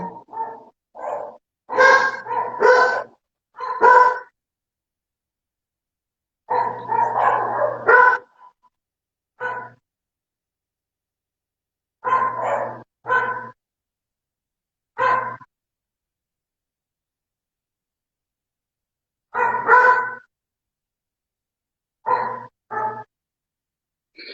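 Dogs below the house bark at an opossum in loud, sharp bursts, clustered volleys of barks and yips separated by stretches of silence over about twenty seconds.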